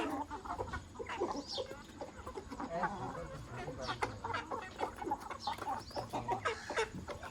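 Backyard hens and roosters cluck and murmur in scattered, overlapping bursts throughout, fairly faint and nearby, with a few sharper calls rising above the steady chatter.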